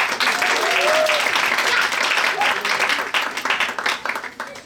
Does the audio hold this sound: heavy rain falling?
no